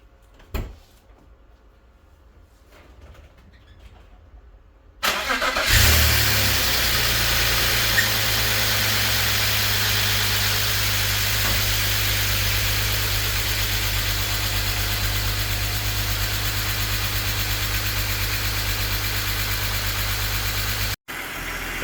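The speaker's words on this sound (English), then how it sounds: "here's the first startup after the head gasket replacement on this E53 X5" A BMW E53 X5 with the M54 engine, newly fitted with a replacement head gasket, cranks over, fires and settles into a loud, steady idle that runs on for about fifteen seconds, with a brief dropout near the end.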